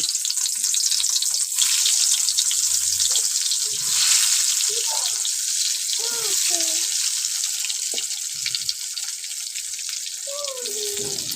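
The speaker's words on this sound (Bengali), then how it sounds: "কড়াটা খুব ভালো করে গরম হয়ে গেছে, বেগুনগুলো ছেড়ে দেব" Turmeric-coated, salted eggplant slices fry in a hot pan, giving a steady broadband sizzle throughout with a few faint clinks and scrapes, while light bird-like chirps sound in the background.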